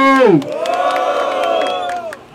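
A rap battle crowd cheers and shouts in one sustained roar, starting with a sharp rising yell and then holding steady before fading out.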